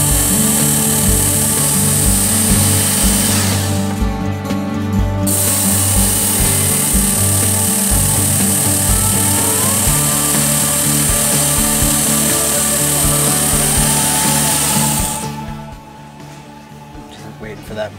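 Work Sharp knife sharpener grinding a knife edge, a loud steady motorized buzz with rhythmic pulsing that runs almost the whole time, stops briefly early on and cuts off near the end, leaving quieter room sound.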